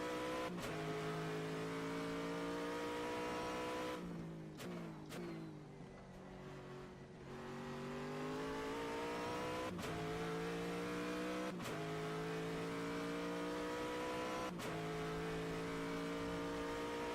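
Aston Martin Vantage GTE race car at night at Sebring, its engine note loud and close, rising through the gears in repeated harmonic sweeps with sharp shift breaks and a brief lift-off dip midway.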